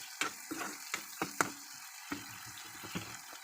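Eggs frying with meat masala in a pan, a soft crackle with scattered sharp ticks and light scraping of a spatula, close and quiet with no talk.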